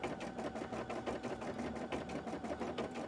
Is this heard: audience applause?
no